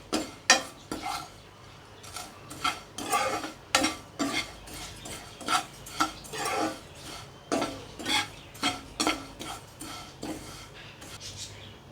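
Metal utensil scraping and clinking against a pan in a steady, repeated rhythm as dried dates are stirred over low heat, close by with faint sizzling underneath.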